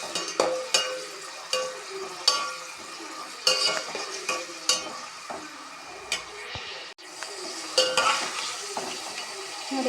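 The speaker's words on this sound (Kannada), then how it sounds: "ಸ್ವಲ್ಪ ಕಲರ್ ಚೇಂಜ್ ಆಗೋ ತನಕ ಈರುಳ್ಳಿ ಫ್ರೈ ಮಾಡ್ಕೊಳ್ಳಿ" Onions fry in a pan for Karnataka-style bisibelebath, a steady close sizzle broken by repeated scrapes and knocks of a spoon stirring against the pan, with no talking.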